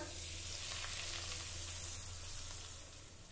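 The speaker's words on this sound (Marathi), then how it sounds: "आता यामध्ये 2 टेबलस्पून कडकडीत गरम तेलाचं मोहन घालूया" Very hot oil poured into ground lentil batter gives a steady, loud, close sizzle that hisses continuously and eases slightly toward the end, with no talking.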